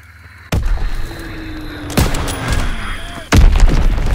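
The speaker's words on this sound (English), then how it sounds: "Enemy bomb incoming. Get to cover." Three sharp, loud blasts from enemy bombs in a shooter game, spaced about a second and a half apart, each with a booming low tail over background battle noise.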